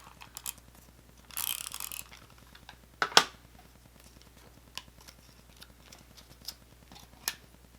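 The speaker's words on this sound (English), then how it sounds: "Now to put them together, just going to use a little tape runner." A small hand-held tape runner for paper crafting, pressed and rolled to lay adhesive while assembling flag cupcake toppers: a brief bright rasping burst and a sharp click, with a few faint ticks around them in an otherwise quiet room.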